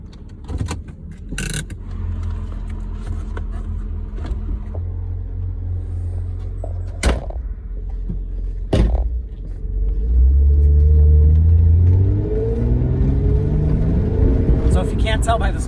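A 1995 Nissan 300ZX in rough shape idles with a steady low rumble, then revs louder for a couple of seconds before settling. A few sharp clanks and jingles sound nearby, and people speak over the engine.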